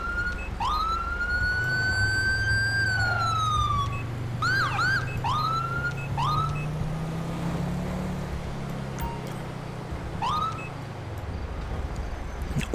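A police car siren sounds in the video game GTA V, playing a long rising-and-falling wail followed by rapid yelping whoops. It is loud and close over a low engine drone, and it stops near the end.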